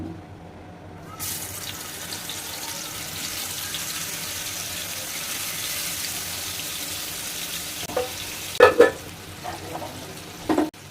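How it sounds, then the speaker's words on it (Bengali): Pangasius fish frying in a pan gives a moderate, steady hiss of oil that starts after a short quiet moment, with a few sharp clinks of utensils near the end. "এখন আমি এই মাছটা ভেজে নেব।"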